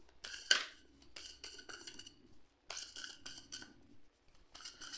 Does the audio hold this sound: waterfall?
no